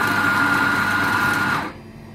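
Q10 coffee grinder grinding beans for a double shot: a steady, loud whirring motor drone that runs without pause for about a second and a half, then cuts off and leaves near silence.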